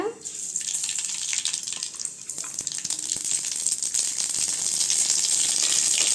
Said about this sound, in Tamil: சட்டி சூடாயிருச்சுங்க, எண்ணெய் சேர்த்துக்கலாம். கடுகு சேர்த்துக்கலாங்க.